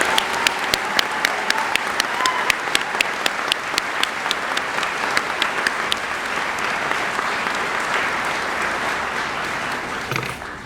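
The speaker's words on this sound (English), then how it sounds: "So I think they deserve a round of applause." A large audience at a college awards ceremony applauds loudly and steadily for about ten seconds, a few sharp individual claps standing out before it slowly thins.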